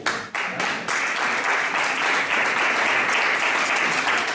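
A crowd claps steadily at a breast cancer day event in Piera, Catalonia, where a new cancer association board is being presented; the applause holds at an even level throughout.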